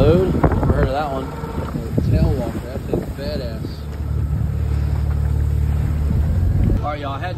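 Wind rushes steadily against a microphone outdoors on a boat during a winter flounder fishing trip, with a voice talking briefly at the start and end.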